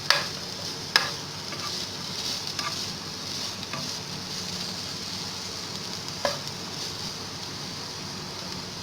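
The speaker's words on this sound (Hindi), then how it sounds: "ये प्याज फ्राई करेंगे।" Onions sizzle and fry steadily in a pan, a close continuous crackle with a few sharper clinks of stirring near the start and again midway; no voices.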